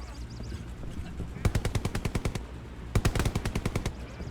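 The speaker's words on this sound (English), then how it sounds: "Tom again, dispatching with his MP40." MP40 submachine gun fire in a Hell Let Loose competitive match: two sharp automatic bursts of about ten rapid shots each, close and loud, separated by a short pause, over steady background game noise.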